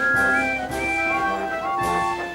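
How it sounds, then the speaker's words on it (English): Steam engine whistles in a Trainz train simulation, several sustained tonal blasts overlapping one another, loud and close, with short gaps between the blasts. "All three engines blew their whistles"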